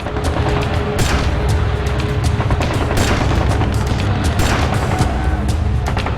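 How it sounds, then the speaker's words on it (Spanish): Loud, dense bursts of gunfire crackling nonstop, rapid overlapping shots and booming reports echoing throughout, from the 1968 Tlatelolco massacre in Mexico City, with shots exchanged around the Chihuahua building. "Y devuelven el fuego."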